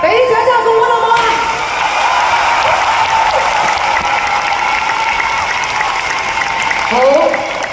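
Applause rises from the audience at the results ceremony of the Middle-Aged Good Voice 3 singing contest. The steady clapping blends with music and a few whoops, and continues nearly throughout.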